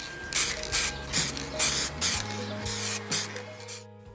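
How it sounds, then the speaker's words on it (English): Paint sprayed from an aerosol can onto steel drawer pulls from a secretary desk, heard as a string of about ten short hissing bursts in a steady rhythm, close and fairly loud, with no talk. "So I'll just finish them up and then I'll probably give them a spray."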